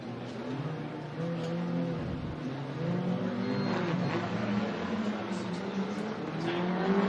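Drift cars at a Formula Drift event in Orlando snarl through sustained, wavering engine revs that rise and fall, a loud continuous racket of engines throughout with faint tire noise underneath.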